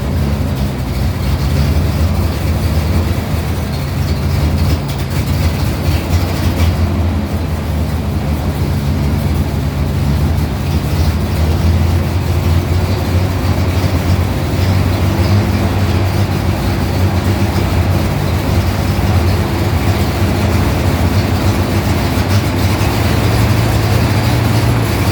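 A 1952 M37 truck engine fitted with an oil bath air filter idles steadily, a loud continuous low rumble that holds even throughout with no breaks.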